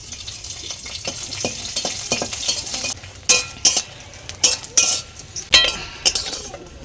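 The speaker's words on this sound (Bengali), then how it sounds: "এর মধ্যে কিছুটা শুকনো লঙ্কা ভেজে নেব।" Dried red chillies fry in hot mustard oil with a steady loud sizzle, overlaid by repeated sharp clinks and scrapes of a utensil against the pan, with no talking.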